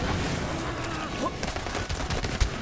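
The fire starter gun in the video game Mayhem 2.0 fires a rapid burst of crackling shots with a sharp explosive pop near the end, dense and fairly loud throughout.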